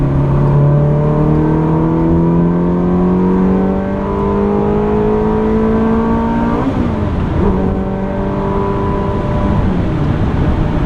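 A 2004 Ferrari 360 Modena with a six-speed manual gearbox pulls hard from inside the cabin, its engine note climbing steadily, then two quick upshifts break the rising drone before it builds again, loud and continuous with no talk.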